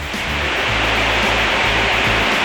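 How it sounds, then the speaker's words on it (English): Chapel Falls waterfall in Pictured Rocks National Park, a steady, loud broadband rush of falling water, continuous and close throughout with no voices. "Chapel Falls, which is a dramatic and picturesque waterfall."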